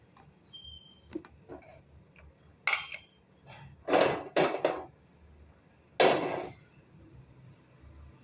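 A metal tawa griddle pan set onto a kitchen stove gives several sharp clanks and scrapes, with a few loud metallic knocks close by in a quiet room.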